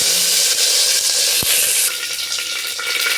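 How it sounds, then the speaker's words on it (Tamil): Mustard seeds splutter and pop in hot oil in a pan while cooking a drumstick-leaf dish, a loud steady sizzle with crackling bursts and one sharp knock near the middle. "கடுகு பொரிஞ்சதும் கறிவேப்பிலை"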